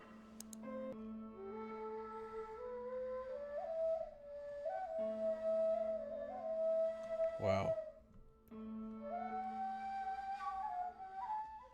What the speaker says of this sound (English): What you just heard is the Nava scale